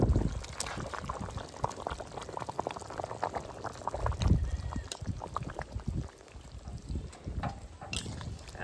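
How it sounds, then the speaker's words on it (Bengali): Potatoes going into a pot of mutton curry after a pressure-cooker whistle, with steady bubbling and sizzling throughout and irregular clatter and stirring knocks from the pot, no talk over it. "এবার আলুটা দিয়ে দেবো।"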